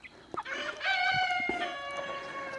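Chickens on an off-grid homestead cluck in short sharp notes and then a rooster crows in a long drawn-out call, close by and clear above a quiet outdoor background.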